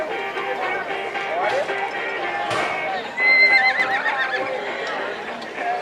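A rodeo bronc horse named Amarillo Slim neighs and whinnies loudly at a Texas-style rodeo, with clip-clopping hooves and arena bustle, a sharp high whinny rising near the middle over steady background noise and a voice.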